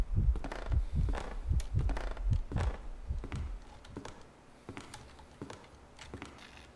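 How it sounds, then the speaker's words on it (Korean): A heavy, booming heartbeat thumps in a fan-made Five Nights at Freddy's-style horror game, a quick run of loud, deep pulses that slows and fades, with no talk over it. "거기 심장 소리 왜 이렇게 크게 나?"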